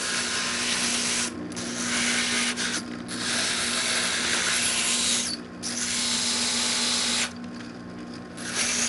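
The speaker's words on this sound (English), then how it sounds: "we're going to bring it over to the grinder" A small Inland glass grinder smooths the edges of cut stained glass, a steady loud grinding hiss that stops briefly several times as the piece is lifted and repositioned.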